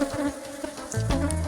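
Honey bees buzz steadily around a small wooden hive box, a dense, continuous close-up hum with no talking.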